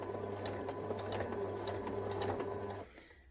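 A sewing machine makes short, close bursts of rapid stitching around a small, tight fabric circle for a toy bunny, whirring evenly before stopping into near silence.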